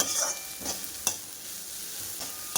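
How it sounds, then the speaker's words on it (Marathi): Vegetables stir-frying on a high flame for jowar hakka noodles, a continuous sizzle broken by a few sharp tossing scrapes, close and fairly loud, with no talk. "हाय फ्लेमवर आपल्याला 2 ते 3 मिनटं फ्राय करून घ्यायचे आहे."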